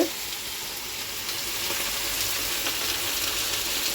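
Chicken cooking in a pan, a steady close hiss of sizzling and bubbling oil that continues evenly throughout with no voices.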